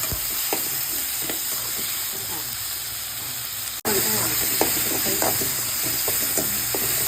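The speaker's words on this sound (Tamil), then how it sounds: "இப்போ நம்ம தக்காளி போட்டுக்கிறோம் தக்காளியை போட்டு நல்லா வணக்கலாம்" Tomatoes sautéing with softened onions in a pan for an eggplant and dried anchovy curry, a continuous close sizzle with clicks of stirring that cuts off briefly midway and then resumes.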